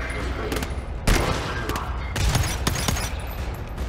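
Hell rifle firing in the co-op shooter GTFO: several heavy, booming shots in an irregular volley over a dense, noisy backdrop, with a voice briefly talking.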